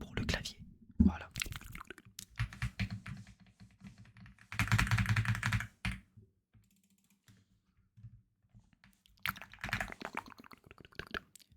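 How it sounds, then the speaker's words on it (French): Bursts of rapid keyboard typing close to the mic while playing Valorant, interrupted by pauses and bits of talking. "Je vais pencher un petit peu le micro pour le clavier."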